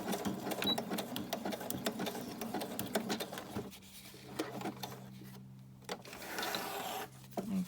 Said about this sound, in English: let's just stitch across there.